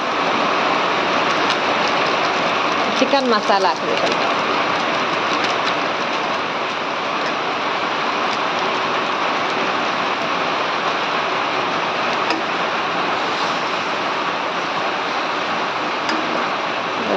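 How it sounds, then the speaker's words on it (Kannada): Steady, heavy rain roars as a broad wash of noise, with a brief voice speaking near the start. "ಮಳೆ ಬರ್ತಾ ಉಂಟು ಜೋರು."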